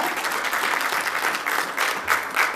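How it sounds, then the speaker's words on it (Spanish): An audience at an autism and inclusion discussion event claps in a dense, sustained round of applause that stays loud throughout, with no speech over it. "un aplauso más grande para él, por favor"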